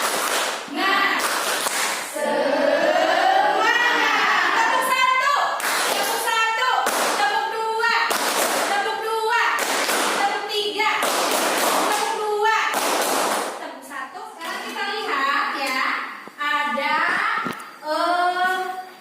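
Schoolchildren in a classroom perform a rhythmic spirit clap, bursts of sharp claps in a steady beat alternating with loud chanted voices, repeated many times up close.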